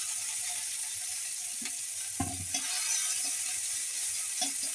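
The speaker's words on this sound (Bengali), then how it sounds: "সামান্য একটু নেড়ে গরম তেলে নেড়ে নেবো।" Chopped onion being stirred in a little hot oil in a wok, giving a steady close sizzle and fry hiss with a few scraping stir clatters partway through.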